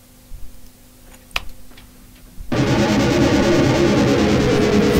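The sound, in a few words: synth pad through amp pedal feedback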